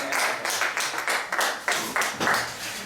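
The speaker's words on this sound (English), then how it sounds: "Clap for yourself." A small group of people claps in scattered, uneven bursts of hand claps at a school leadership gathering, close and fairly loud with no speech over it.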